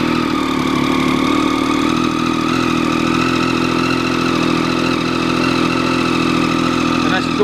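A motorcycle, started from cold, settles into a steady, loud, close idle whose even engine drone holds without revving throughout.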